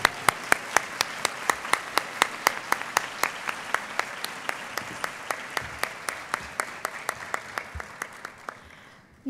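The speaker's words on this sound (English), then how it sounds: "Can we please give them a huge round of applause?" Applause at a graduation celebration, heard as a fairly quiet, evenly spaced run of distinct claps at moderate distance that gradually fades over several seconds.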